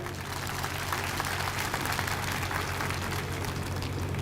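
Applause from a large crowd at a political party review meeting, a dense, continuous patter of clapping that stays even and moderately loud over a low background hum.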